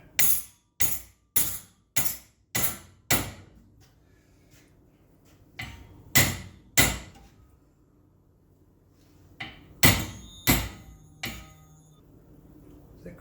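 Sharp metallic hammer strikes on a part of an antique bicycle light being bent, arriving in a quick run of six blows, then scattered groups of two and three with pauses, close and crisp in a quiet room.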